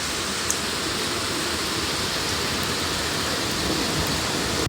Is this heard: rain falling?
yes